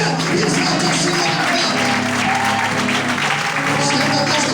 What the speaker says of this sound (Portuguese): Aplauda e exalta o Senhor.